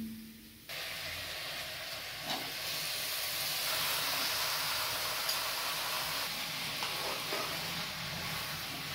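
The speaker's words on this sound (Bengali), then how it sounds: "এবার ম্যারিনেট করা মাংসগুলো দিয়ে দিচ্ছি।" Marinated chicken goes into a hot pan, and a sudden, steady hiss of sizzling starts within the first second, then continues evenly at a fairly soft level, with no voices.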